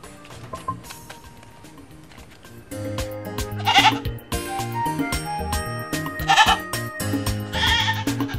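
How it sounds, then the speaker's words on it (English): Goat bleating amid background music and jingling sounds, with several loud, wavering cries rising over a dense layered mix in a Nigerian comedy film scene. "That's usually the goat"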